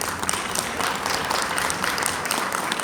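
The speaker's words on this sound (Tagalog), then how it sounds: "Salamat naman sa palakpak." A crowd applauds at the inaugural address of an incoming national president of a real estate association, producing a dense, continuous wash of clapping at a constant level with no voices over it.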